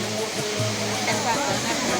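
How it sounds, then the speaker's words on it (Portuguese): Roncador waterfall rushing with a constant broadband roar of falling water, heard close and fairly loud throughout, with a few faint voices in the background. "Cachoeira do Roncador."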